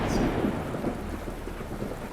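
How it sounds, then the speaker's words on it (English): Rain and thunder in the Fallout: New Vegas game set in Nevada, with a dense hiss of steady rainfall beneath low rolling thunder, loud and continuous throughout with no talking. "God, I hate it when it rains in Nevada"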